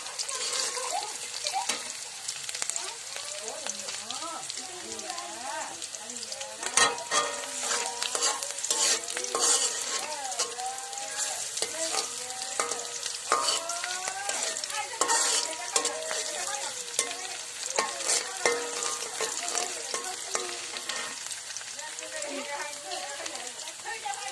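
Chopped vegetables frying in a pan while being stirred, with continuous sizzling and repeated scraping strokes throughout, close by, and a voice talking intermittently over the cooking.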